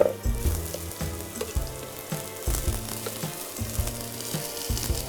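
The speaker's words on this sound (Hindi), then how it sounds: "अब ये जाएगा सारा का सारा प्याज इस ऑयल में।" Chopped onion hits hot oil and fries with a loud, steady sizzle, punctuated by rhythmic low thuds of a utensil stirring against the pan, close up with no talking.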